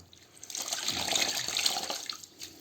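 Water runs and splashes while a tulle curtain is washed, a steady close rush that swells in the middle and eases at both ends.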